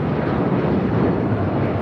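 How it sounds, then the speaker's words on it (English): United Airlines Boeing 757-300 taking off from LAX for Chicago O'Hare: a steady, loud broadband jet roar that holds without a break, with no voices over it. "This is United Airlines 745 taking off to Chicago O'Hare on the 757-300."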